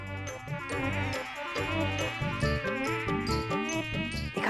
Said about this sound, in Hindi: मच्छर यहाँ कुर्सी पे है।